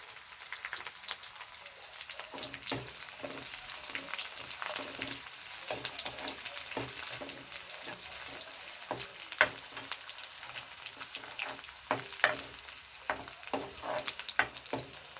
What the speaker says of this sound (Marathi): मिरच्या पण परतून घ्यायच्या आहेत